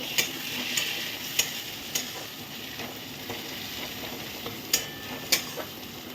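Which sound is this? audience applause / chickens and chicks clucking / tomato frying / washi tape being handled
tomato frying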